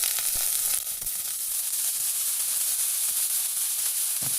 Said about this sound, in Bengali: ঝরিয়ে রাখা শাক দিয়ে দিচ্ছি। ঝুড়িতে ঝরিয়ে নিয়েছিলাম।